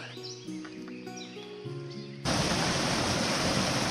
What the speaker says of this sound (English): Water's really running this morning after the rain last night.